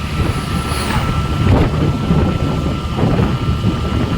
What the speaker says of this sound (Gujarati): જો ભાઈ પથ્થરનું ટ્રેક્ટર